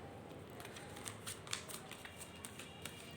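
A tarot card handled and drawn from a deck, faint repeated soft flicks and papery rustles spread across a few seconds, quiet and close with no speech.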